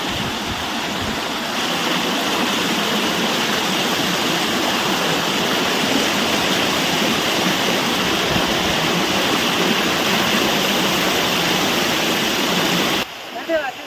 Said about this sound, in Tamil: அவ்வளோ தண்ணி போகுது.